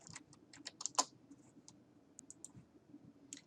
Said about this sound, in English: So I can type in these boxes.